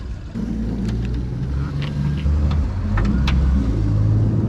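An old car engine labours while driving up a steep ramp, a loud, close, steady low rumble that swells slightly as the load increases, no voices.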